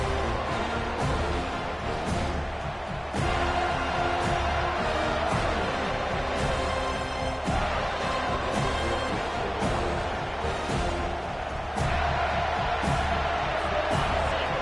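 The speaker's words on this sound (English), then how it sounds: "This crowd bringing the energy and noise early." A large stadium crowd at a football game roars continuously, a dense wash of cheering and shouting that surges in waves throughout.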